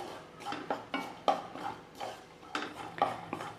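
Halva ingredients are lightly roasted in a pan while a spoon makes steady rhythmic scraping and clinking strokes against the metal, close and moderately quiet, with no voices.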